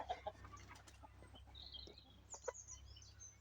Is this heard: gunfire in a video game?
no